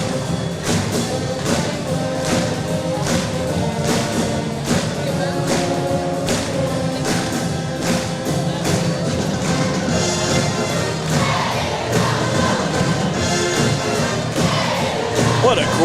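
A home crowd at a girls' varsity high school basketball game in a gym called the Shed keeps up a loud, sustained roar of cheering and shouting. Repeated thuds and squeaks from the court sit beneath it.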